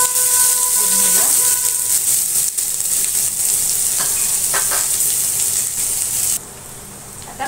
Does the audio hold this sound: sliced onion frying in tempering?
yes